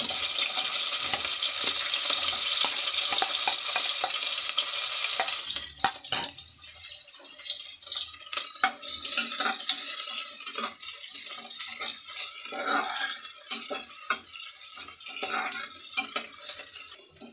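Onion fries in hot oil after spluttering seeds for a black-eyed pea biryani, a bright steady sizzle that drops away into repeated spoon scrapes and clatters against the pan.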